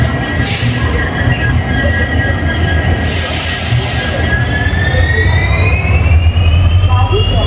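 A Humsafar Express train on the Ahmedabad to Chennai run, just out of Solapur, gives a loud, steady rumble of wheels on rail, with thin squealing tones drifting over the whole stretch.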